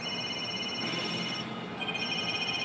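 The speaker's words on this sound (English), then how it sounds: "Where's that ringing coming from?" A cell phone rings in the Phoenix Wright: Ace Attorney Dual Destinies video game, a steady electronic tone pattern with repeating pitched beeps over a soft hiss, no voices.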